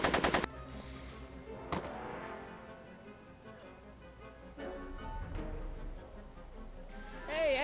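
Gunfire in the Back to the Future video game: sharp loud shots at the start, then isolated cracks scattered through the clip over game music and effects, with a burst near the end.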